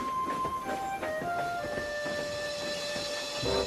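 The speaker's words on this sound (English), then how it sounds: "Thomas puffed on." A steam locomotive chuffs steadily along with a busy, rhythmic rattle and hiss, with several sustained whistle-like tones gliding over the continuous, fairly loud train noise, with no talk.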